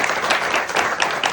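Loud, dense applause from a concert audience greets a Lucknow gharana tabla maestro at a music event, a steady wash of many hands clapping close by with no pauses.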